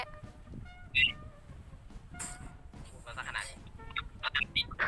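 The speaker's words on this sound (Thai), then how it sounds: "ก็จะมีไก่" Minecraft chickens cluck and squawk in short, scattered bursts among other game sounds, fairly faint and intermittent, with people chatting in Thai over them.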